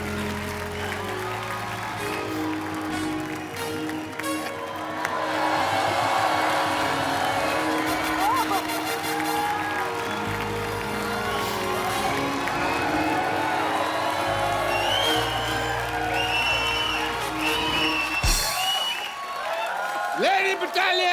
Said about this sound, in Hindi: जोरदार तालियां शाहरुख भाई।